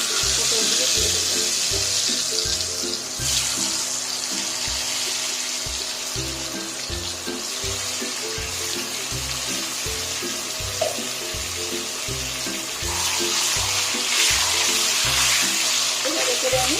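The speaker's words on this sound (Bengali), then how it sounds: "তেলটি গরম হয়ে গেছে, এবার এতে আমি পটলগুলো দিয়ে দেব।" Pieces of pointed gourd fry in hot oil over a high flame, a steady close sizzle with a rhythmic thudding pulse beneath it, continuous and fairly loud.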